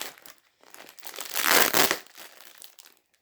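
Packing tape crinkling and tearing as it is peeled off Beyblade X Silver Wolf toy packaging, a close, rustling burst that swells to a loud crackle mid-way and then trails into quieter crinkles.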